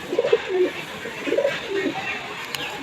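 A male Boromoni Madrasi pigeon in a loft coos in short, soft throaty bursts, repeated a few times at close range, while a person talks quietly throughout.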